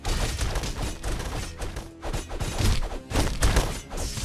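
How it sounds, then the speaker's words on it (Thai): A dense, chaotic Castle Crashers game soundscape with heavy booming impacts and crashing bursts, loud and continuous, with a big blast near the end. "อุ้ยระเบิด"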